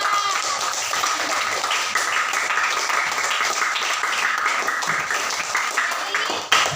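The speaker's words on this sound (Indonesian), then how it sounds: "Beri tepuk tangan untuk kelompok 4." A group of students in a classroom applauds for a presenting group, steady clapping from many hands filling the room for several seconds, with voices mixed in.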